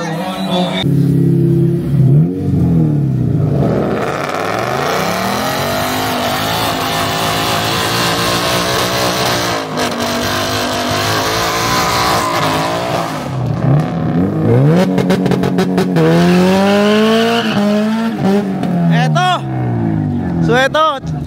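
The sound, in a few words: Ford Mustang 5.0 and Honda Civic EG race cars racing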